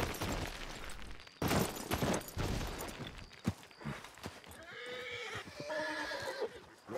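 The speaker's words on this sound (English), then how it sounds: "Gathering of horses over here." A herd of horses in a video game, several loud whinnies and neighs overlapping with hoof clatter, close and busy, with no talking.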